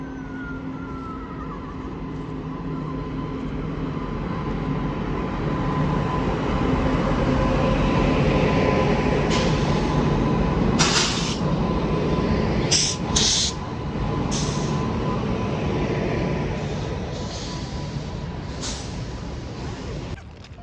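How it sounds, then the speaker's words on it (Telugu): A train hauled by two locomotives rumbles past near the Araku and Borra Caves area, a steady loud roar of wheels and carriages with a few sharp squeals and clanks, and no one speaking. "మన ట్రైన్ ఇలాగే 2 ట్రైన్ ఇంజిన్ లాక్కొచ్చు బ్లాక్ గ్రీన్."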